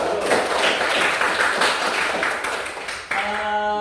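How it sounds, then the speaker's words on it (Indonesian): Children in a primary school classroom clap together in a brisk, steady burst of applause that cuts off sharply near the end, leaving a brief tone behind. "Tepuk tangan dulu untuk kalian semua."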